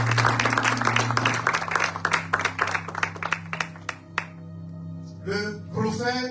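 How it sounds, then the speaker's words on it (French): A church conference congregation claps to acclaim Jesus: dense, lively applause over a sustained keyboard drone, thinning into scattered claps before voices take over at the end. "On acclame Jésus."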